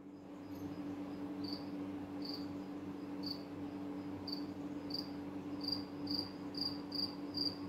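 Steady cricket chirping repeats in a long run of evenly spaced pulses, close and distinct over a constant low hum, growing slightly quicker toward the end; nobody speaks.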